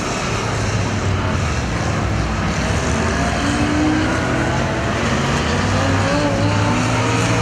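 Figure 8 race cars roar past the start-finish line at Perris Auto Speedway, a loud continuous engine drone with shifting pitch as several cars pass in succession.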